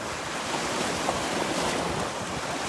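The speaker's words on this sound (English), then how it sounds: "a big boat just went by and the waves are coming" Waves from the wake of a big boat that has just passed break and wash steadily against the shore, a broad continuous rushing surge mixed with wind noise on the microphone, fairly loud and close, with nobody speaking.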